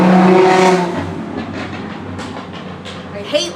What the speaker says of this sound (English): I hate loud cars. They're so obnoxious.